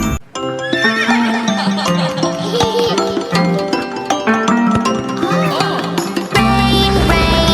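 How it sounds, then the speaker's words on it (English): A horse neighing in a children's rhyme, loud whinnies set over bright sung music with clip-clop accents, all close and continuous. "Neigh, neigh, the horses say."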